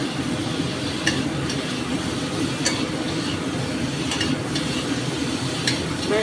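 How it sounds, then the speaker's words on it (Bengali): Pointed gourd being stirred into spice paste in an oiled pan, a steady sizzle and frying hiss with occasional clinks of a spoon against the pan. "পটলটা এই সময় দিয়ে দেবো এর ভেতরে, এই মশলার সাথে একটু নাড়ব"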